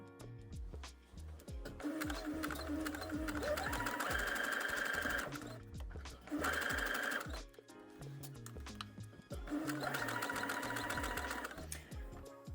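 A sewing machine stitches binding onto a sleeveless garment in matching thread, running in three long loud bursts of rapid mechanical hum and clatter separated by brief pauses, with no talking.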